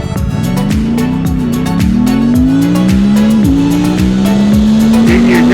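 A Suzuki GSX-8R motorcycle with its stock exhaust drones loudly on the road, the engine note steadily climbing in pitch as it accelerates, with repeated whooshes of passing traffic and wind over the rider.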